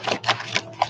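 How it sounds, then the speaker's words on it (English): Self-care reading cards shuffled by hand, giving a few quick papery bursts of riffling at a steady rhythm, close and fairly quiet with no talking. "So I'm going to be shuffling these up"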